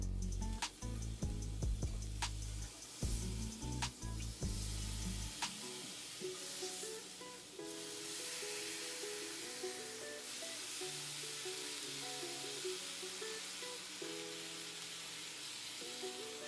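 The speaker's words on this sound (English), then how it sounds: "we're going to use a cast iron to brown our meat" Sausage and bacon browning in a cast iron pan, a steady close sizzle and crackle of frying fat running throughout, with a few utensil knocks early on and background music, no voices.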